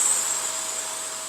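A Hoover vacuum cleaner drones steadily and loudly up close while being run over a man's beard, a continuous high whine with no talking.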